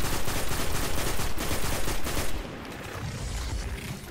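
Rapid gunfire crackles in a video game as a dense, steady stream of shots that thins out toward the end, close and fairly loud.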